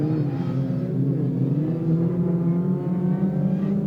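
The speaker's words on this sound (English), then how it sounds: "You can see the Minis pulling away, slightly more powerful than the Suzuki Swift." Identical supercharged 1600cc BMW Mini rallycross cars accelerate hard at a championship round, a loud, steady engine roar with rising harmonic tones sustained for a few seconds, no voices over it.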